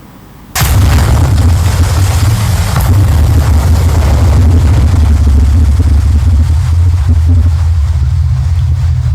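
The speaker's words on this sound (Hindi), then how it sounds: "और बम फूट रहे हैं।" A bomb blast effect hits suddenly with a sharp loud onset, then a heavy rumbling roar that persists at steady high level, suggesting continuous explosions in a battle scene.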